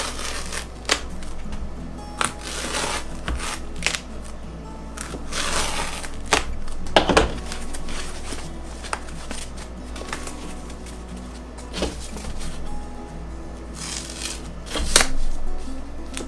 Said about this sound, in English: I can take my pocket knife and I can split this foam right down the middle this way